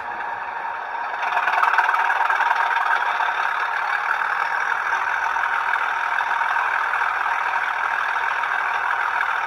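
A model Class 37 diesel locomotive's DCC sound module rises and settles into a loud, steady mid-pitched drone, revved to full notch and holding without talk.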